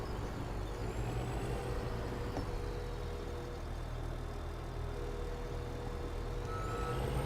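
A wheel loader with dual front wheels in Farming Simulator 17 on a Pacific Northwest farm, its engine droning steadily while high reversing beeps repeat and air brakes hiss, with no talk.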